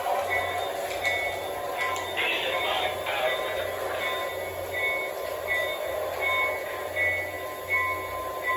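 A train pulls out with a steady rolling rumble, rail clatter and recurring wheel squeals, close and continuous, while a voice is heard over it.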